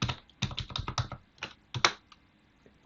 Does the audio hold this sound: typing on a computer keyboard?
yes